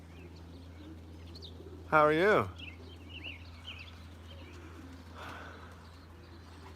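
A young racing pigeon gives a short, loud, close coo partway through, with faint chirps and a softer call later over a steady low hum, while a person greets someone.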